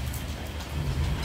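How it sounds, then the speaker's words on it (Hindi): Heavy rain pours down in a steady, dense hiss that drums continuously on surfaces nearby during a monsoon downpour, with no voices over it. "बहुत तेज़ बारिश शुरू हो चुकी है, बादल भी गरज रहे हैं ऊपर"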